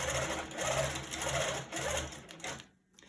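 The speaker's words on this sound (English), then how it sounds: "I'll hold down my threads here and give a quick zigzag over this spot" A long arm sewing machine runs a quick zigzag over folded ribbon on a silver quilted stocking, a steady rapid whirring hum with rhythmic stitch pulses for about two and a half seconds, then stopping.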